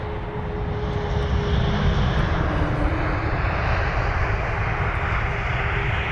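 Air France Airbus A220 on its landing approach at Heathrow, a steady, loud, near engine roar with broadband rush that holds throughout without any talk.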